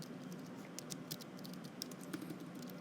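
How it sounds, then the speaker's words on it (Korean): Light clicks of keys pressed on a computer keyboard, a scattered run of quiet, close taps over a faint background hiss. "점을 누르고 이 탭을 눌러보게 되면은"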